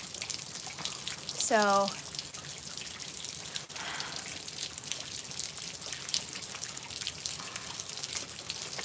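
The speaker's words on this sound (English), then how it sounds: "I figured I would make up for yesterday with a nice sound of rain." Soft, steady rainfall with a gentle hiss and scattered drips, quiet and even throughout; someone says a single word near the start.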